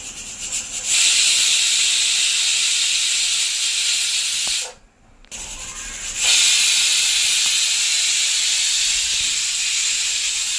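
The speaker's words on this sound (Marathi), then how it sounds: "आता आपल्या तीन शिट्ट्या कुकरच्या झाल्या आहे" A pressure cooker of tomatoes for homemade ketchup vents steam in a loud, continuous hiss that cuts out briefly midway, then resumes at full strength.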